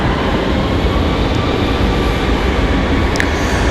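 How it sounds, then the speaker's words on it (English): Steady, loud broadband roar of an American Airlines A321 jet departing runway 5 at Raleigh-Durham airport, sustained and close with no pauses and no talk over it. "So there goes the American A321."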